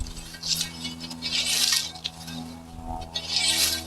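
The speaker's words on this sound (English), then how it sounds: "So this is very fine grass underneath here that's cutting. You just slice your way through." A scythe slices through fine, low grass in a weedy garden bed, making repeated airy swishing strokes at close range, with about three strong sweeps and a few quieter ones between them, and no talk.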